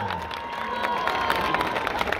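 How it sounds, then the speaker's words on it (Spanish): An audience at a live charity event in Acapulco claps and cheers, a dense burst of applause with scattered shouts that holds steady for a couple of seconds. "Un aplauso para nuestra gran Chilindrina"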